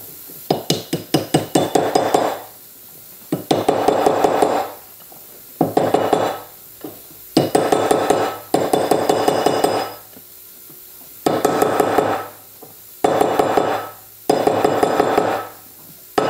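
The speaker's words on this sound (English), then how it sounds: "use a soft hammer. So I'm going to get my rawhide." A rawhide mallet strikes a silver ring on a bench to round it, making bursts of quick, sharp, ringing metallic taps in repeated clusters with short pauses between, close and fairly loud.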